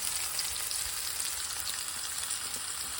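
Small fish fillets sizzle in a hot pan as they brown to a golden colour, giving a steady, fine crackling hiss that stays even throughout, and nobody speaks.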